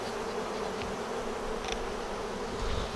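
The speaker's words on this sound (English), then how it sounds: "smoking the bees out of the way" Bees buzz in a steady, dense drone around a Flow hive being smoked, the insect hum continuous and close throughout with no voices.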